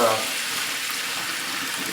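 Rice rinsed under running water into a kitchen sink while making chicken wild rice soup, a steady broad hiss of flowing water with no pauses.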